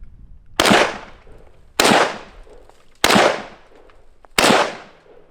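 Four loud SKS rifle shots ring out one at a time at roughly even intervals, each a sharp crack followed by a short decaying echo, with no talking.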